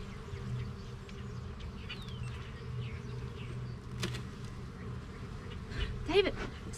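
Honeybees buzzing around an open triple-decker hive during a spring inspection, a steady low drone with individual bees whizzing past close by, and a voice briefly heard.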